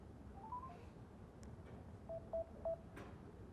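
A few short electronic tones from a phone keypad dialing a call center, beeping one after another at uneven intervals over a low, steady background hiss.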